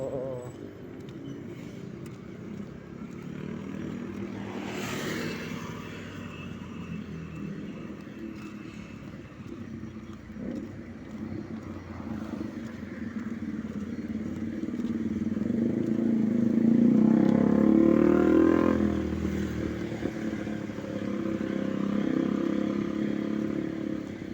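Road traffic in Lubao rolls past: engines and motorcycles go by nearby in a steady wash, with one louder vehicle swelling up close toward the end.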